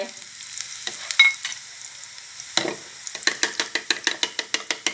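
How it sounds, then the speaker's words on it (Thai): Garlic frying in oil in a wok, with sizzling and a spatula scraping and stirring: scattered clicks at first, then a quicker run of rhythmic scrapes over a soft steady crackle, close and clear, with no talking. "ต่อจากนั้นก็ตั้งกระทะ แล้วก็ใส่น้ำมัน ใส่กระเทียมลงไป"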